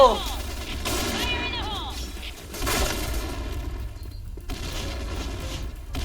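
Gunfire rattles in the video game Point Blank: several loud, sharp bursts of shots and booming impacts in quick succession, with a voice talking over the action.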